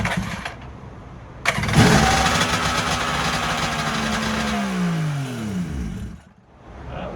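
A Suzuki LJ20 engine is cranked with the ignition on and catches, running loud and rough for several seconds with a falling tone before cutting out and restarting faintly.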